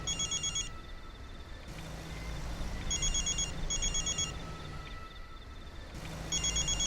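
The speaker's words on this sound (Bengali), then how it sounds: "আবার কার ফোন এলো?" A telephone rings in repeated bursts of bright trilling, about four rings spread over several seconds, faint and set against a low room rumble with no speech.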